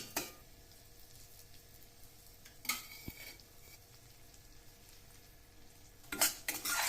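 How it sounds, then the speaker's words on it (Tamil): Semolina roasting in a pan for Chettinad ukkarai: quiet, steady stirring with faint sizzling, and a few sharp clinks of a metal spoon against the pan. "ரவாவை போட்டு நல்லா செவக்க வறுத்துக்கணும்"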